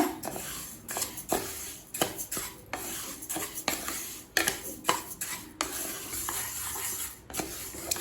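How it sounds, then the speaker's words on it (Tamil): Moong dal roasting in a pan is stirred with a metal spoon, which scrapes and clinks against the pan in an irregular rhythm over a faint, steady sizzle, close and alone. "பாசிப்பருப்பை நல்ல வாசனை வர வரைக்கும் வறுத்துக்கலாம்"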